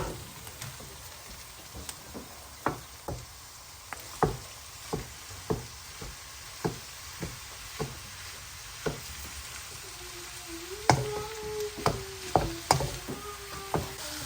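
One kilogram of minced meat fries with caramelized onions in a single pot of chilli con carne, with a constant low sizzle punctuated by regular spoon knocks and scrapes as it is stirred.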